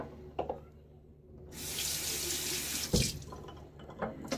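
Tap water runs into a shaving lather bowl, a bright splashing gush that starts abruptly after a few quiet knocks, pours steadily for about a second and a half, then cuts off, followed by small clinks.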